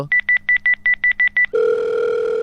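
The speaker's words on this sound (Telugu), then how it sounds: "రే రింగ్ అవుతుంది" A shop telephone line gives a rapid series of short electronic beeps, about ten in quick succession, followed by a steady, unbroken ringing tone.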